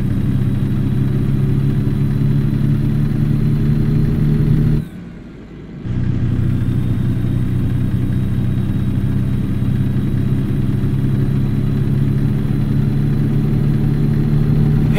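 The engine of an International LoneStar truck in American Truck Simulator hauling grain drones steadily and loud, with a brief dip near the middle before the constant rumble resumes.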